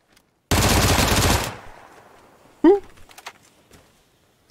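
FAMAS assault rifle in a Counter-Strike style shooter firing one loud, rapid full-auto burst of about a second, then a fading tail, a sharp metallic clack and a few faint scattered clicks.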